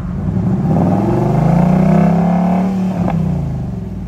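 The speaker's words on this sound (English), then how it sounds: "Rev it, but don't be scared." A 2022 Ford Mustang GT engine revs loudly up close, its V8 note climbing steadily, holding, then dropping back toward idle after a brief blip, with no one talking.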